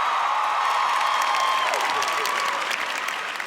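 Audience applause from a large crowd at a hosted talk event, steady and loud throughout, with a few tonal sounds running over it.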